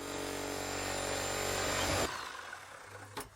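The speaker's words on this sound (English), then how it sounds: "Fortunately, David comes complete with an electric jigsaw, and he knows how to use it." An electric jigsaw cuts a doorway opening in a garden shed wall, a loud, steady buzzing whine up close that stops abruptly partway through, followed by a brief clatter.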